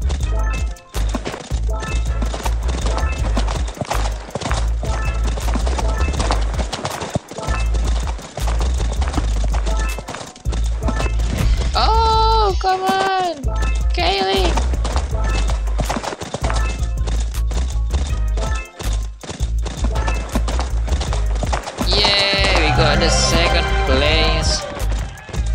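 A horse in a racing video game gallops with a rapid, steady clip-clop of hooves throughout, loud and close, with a couple of whinnies and game music sounds layered on top.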